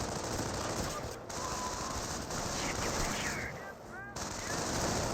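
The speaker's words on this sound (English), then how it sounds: "we got this MG42 now deployed on the field" An MG42 machine gun in the strategy game Company of Heroes fires long, continuous, dense bursts, loud and unbroken apart from a brief gap near the end.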